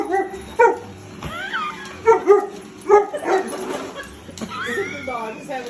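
A dog at home barks in short yips and whimpers at a robot vacuum, several close, fairly loud bursts with whiny rising tones spread across the stretch, mixed with the hum and clatter of the machine.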